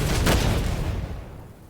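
A gun fires in the FPS action roguelike video game Witchfire, giving one loud, meaty shot with a booming tail that fades over about a second.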